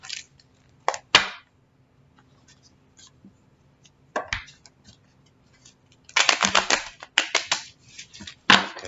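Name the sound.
shuffling a deck of cards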